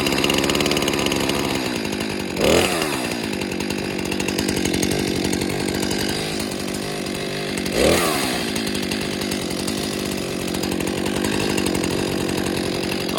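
A Stihl MS 261 professional chainsaw idling to warm up, a steady buzzing engine drone close by, with two brief louder revs or bumps, no talking.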